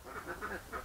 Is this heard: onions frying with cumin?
no